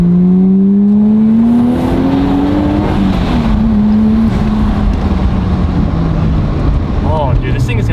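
A Toyota JZX100 Chaser sweeps past in a loud close flyby, its engine note holding steady then sliding downward as it passes and recedes, with a raspy exhaust roar throughout.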